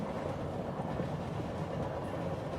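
A train runs along its tracks with a steady, low, continuous rumble and broadband rolling noise, even in level throughout, with no voices and no distinct rail clacks.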